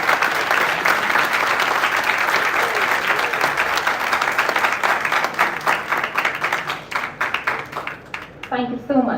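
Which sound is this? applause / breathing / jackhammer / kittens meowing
applause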